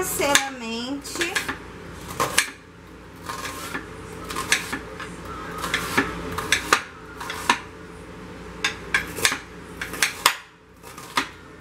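Metal pots and pans clatter and clank repeatedly, sharp close knocks spaced irregularly, with a brief scraping squeal near the start.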